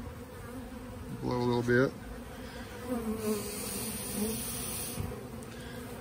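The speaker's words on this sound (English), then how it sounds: "Now the bees are very busy." Honey bees from a recently swarmed colony buzz steadily around an opened hive during an inspection, a dense low drone with a short louder burst from a smoker puff and someone speaking briefly.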